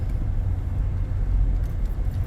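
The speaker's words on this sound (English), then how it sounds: "we're kind of stuck in traffic right now" Low, steady road rumble inside a car stuck in slow traffic, a dull engine and tyre drone with no voices.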